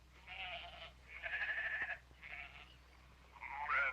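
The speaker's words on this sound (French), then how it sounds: "c'est un de nos moutons." A sheep from a flock bleats several times in a row, wavering calls close by with short pauses between them, over a quiet low hum.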